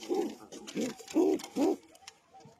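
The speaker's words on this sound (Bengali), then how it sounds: "এই যে এই কবুতরটা হারিয়ে গেছিল, এটা হচ্ছে মাদি কবুতর" Soft, low cooing from a female homing pigeon of the high-flying Giribaz breed, four rounded coo phrases in a loose rhythm, close by and alone with faint background noise.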